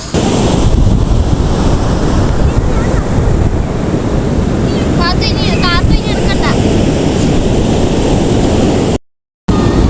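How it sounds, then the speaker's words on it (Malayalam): Sea waves roll and wash up the beach over a sand castle, a loud, constant surf roar with heavy wind buffeting the microphone and faint voices in the middle. "നമ്മൾ കൊട്ടാരം പണിഞ്ഞുകൊണ്ടിരുന്ന സമയത്ത് തിരയടിച്ച് വന്നിട്ട് നമ്മുടെ കൊട്ടാരത്തിൽ വെള്ളം കയറി"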